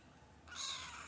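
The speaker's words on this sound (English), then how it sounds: "whiny kitten and me" A kitten gives a single whiny meow, starting about halfway through and held for roughly half a second, close and fairly quiet, with no voices.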